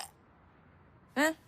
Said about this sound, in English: Mini fridge, big burps.